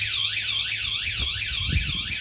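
A security alarm on a trailer lock wails continuously, a loud, close siren that sweeps up and down in a rapid repeating cycle with faint low rumbling beneath it.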